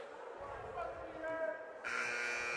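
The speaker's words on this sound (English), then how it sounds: "Well, there's the buzzer." A sustained electronic buzzer sounds in a gym during a school volleyball match, rising in loudness near the end and droning steadily over a low background murmur of the crowd.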